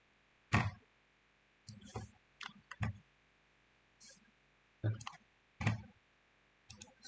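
Computer mouse clicks while a Windows PC is used to open Disk Management for a forensic acquisition, coming as several crisp, separate clicks and short pairs at a close, quiet level.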